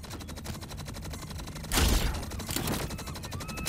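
Rapid, loud bursts of assault rifle fire in the action video game Akimbot, dense and continuous with a heavier blast about halfway through, no voices.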